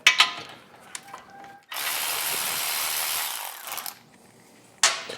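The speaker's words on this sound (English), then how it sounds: "the first thing we're gonna go after is these 2 nuts right here, which are a 12 millimeter." Loosening 12 mm exhaust nuts on a Honda Grom motorcycle: a few quick ratchet clicks, then a sustained whirring power-tool burst of about two seconds, close, with another short burst at the end.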